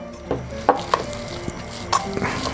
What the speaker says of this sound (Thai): คนคลุกเคล้าเขาให้เข้ากัน